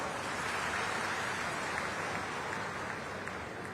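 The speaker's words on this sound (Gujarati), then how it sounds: "તાળીઓ તો પાડો." An audience at a political speech event claps together in a steady, dense patter of applause, fairly faint and distant, continuing without a break.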